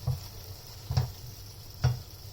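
Chopped tomatoes with salt and turmeric powder sauté in a pan for tomato thokku, a low steady sizzle broken by three soft, evenly spaced stirring bursts.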